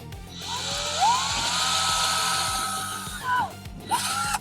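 A power drill whirs steadily, its pitch rising and dipping as it bites in, with a couple of short revving bursts near the end.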